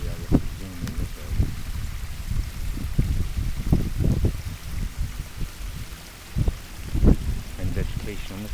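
Water flows continuously along an 80-foot pondless waterfall stream with little drops in Maui Meadows, a steady close trickling rush with splashy bursts throughout.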